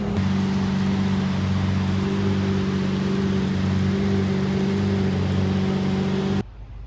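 Steady rain drumming on a beat-up BMW M3 while driving, with a constant engine and road hum underneath, loud and continuous, cutting off abruptly near the end.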